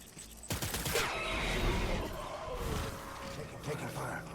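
Gunfire from the PS5 game Death Stranding bursts in loudly and keeps rattling in a dense, sustained clatter, with a voice talking over the barrage.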